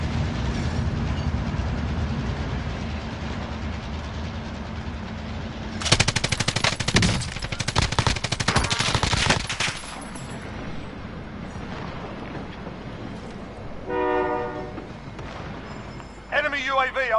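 Gunfire in a Call of Duty Plunder match, a loud burst of rapid automatic shots in the middle stretch over steady game noise, followed by a few short separate bursts later, with voices talking over the action.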